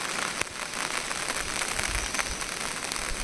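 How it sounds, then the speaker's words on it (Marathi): Steady monsoon rain patters down continuously on an open laterite plateau, a dense hiss of drops striking a surface nearby, with no voices. "इकडून नाही पाऊस येता पाठून नाही पाऊस येता साईडने पण पाऊस येता"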